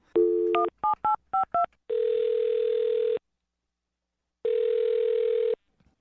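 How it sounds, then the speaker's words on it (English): A telephone number is punched in as a quick run of about six short DTMF keypad tones, followed by two long steady ringback tones separated by a silent gap, all clean and close with no talk. "I'm going to dial her phone number right now."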